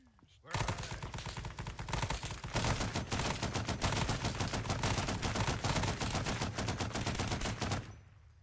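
Covering fire in Arma 3's S.O.G. Prairie Fire, a sustained stream of rapid automatic gunfire, dense and continuous for several seconds before cutting off, somewhat distant and fairly quiet.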